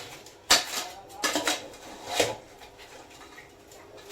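A spoon scrapes and knocks against a cooking pot while crab gravy is stirred, a few sharp clinks and rubbing scrapes spread out over a quiet kitchen background, with no talking.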